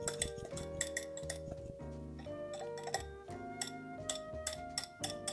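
A metal whisk clinks and rattles against a mixing bowl as dough for green bean dumplings is knocked and scraped loose, a run of bright metallic taps and scrapes in a steady irregular rhythm, close and moderately loud with no talking.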